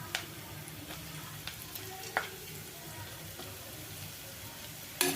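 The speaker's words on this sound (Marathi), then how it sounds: "आता छान याला मिक्स करून घ्यायचं आहे या मसाल्यांमध्ये आपल्याला, या करटुलेला" Kartule (spiny gourd) being stirred into homemade masala and chilli powder in a pan, a low steady sizzle broken by a few sharp scrapes and clicks of the spoon, with no talking.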